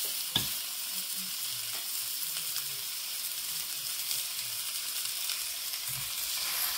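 Pork belly sizzles on a hot Saladmaster grill with no oil, a soft, even crackling hiss throughout with a faint tap at the start, quiet and steady with no voices.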